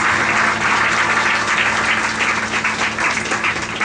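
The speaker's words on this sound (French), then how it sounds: "Clap for the Lord Jesus Christ." A church congregation at a Sunday service applauding, a dense, loud, continuous wash of clapping from many hands throughout.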